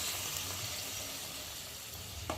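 Water hits a hot pan of prawn and Malabar spinach curry, setting off a steady, soft hiss of sizzling and bubbling that holds evenly throughout, with no talking.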